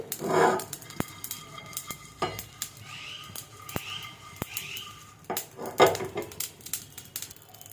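Cinnamon pieces with ground and whole cumin dry-roasting in a pan, giving scattered scrapes, clinks and taps from stirring over a faint background crackle, close and intermittent.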